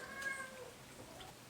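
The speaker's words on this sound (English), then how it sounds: "I apologize for my cat who is in the hallway getting really mad" An angry cat out in a hallway lets out a faint, drawn-out meow that sounds distant and muffled against quiet room noise.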